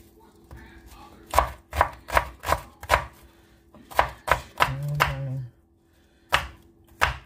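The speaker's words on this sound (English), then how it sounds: "That's how we dicing." A knife dices food on a cutting board with crisp, evenly spaced chops in quick bursts, a short scraping pause partway through, then a few more sharp taps.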